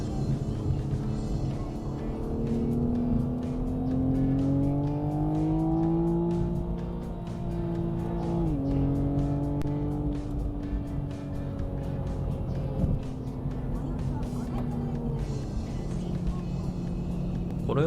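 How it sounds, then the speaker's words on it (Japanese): A Toyota GR Supra engine with stock exhaust revs hard in third gear while merging onto a highway, its pitch climbing steadily, dropping at a gear change, then rising again, heard from inside the car. "このように鋭くエンジンが吹き上がり、純正のマフラーのままではありますが、非常に気持ちのいい音を出してくれます。"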